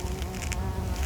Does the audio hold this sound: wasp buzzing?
yes